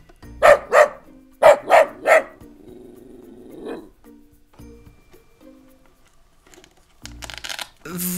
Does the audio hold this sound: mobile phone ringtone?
no